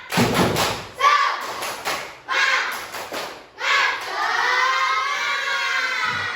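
A primary-school class performs a rhythmic clapping chant, bursts of sharp claps in a patterned beat separated by short pauses, then giving way to a sustained sung or called-out tone from the group.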